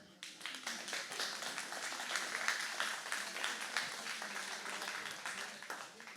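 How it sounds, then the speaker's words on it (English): A round of applause from the audience at a community Q&A meeting on a proposed 765-kV transmission line, dense steady clapping filling the room at an even level throughout, with some voices mixed in. "please give all our speakers a round of applause"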